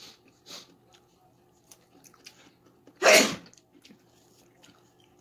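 A single sharp human sneeze bursts out near the middle, loud and close, in an otherwise quiet indoor room with faint clicks and small handling noises around it.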